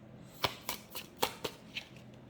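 Cards being shuffled and drawn for a tarot-style reading, in a few soft, separate riffling flicks and snaps spread across the moment, quiet and close, with no talking.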